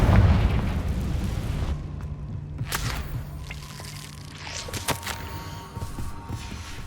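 Confringo fire spell blast in the video game Hogwarts Legacy: a heavy booming explosion at the start that rumbles and decays, followed by a few crackling, popping bursts, loud and close, no talk.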